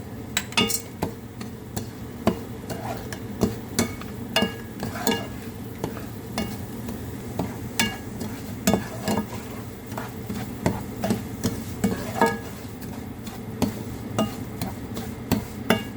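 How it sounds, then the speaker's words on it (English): Semolina flour with cinnamon and cloves is parched in ghee, a spoon scraping and clinking against the pan in irregular sharp knocks over a soft, constant sizzle. "I'm parching the flour here"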